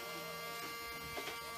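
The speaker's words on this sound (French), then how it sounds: "bruit que vous entendez en fond, c'est Swan, il a eu un aspirateur. C'est le plus heureux du monde" A toy vacuum cleaner runs with a steady, buzzing electric motor whine that holds constant throughout, close by at moderate loudness, with faint voices in the background.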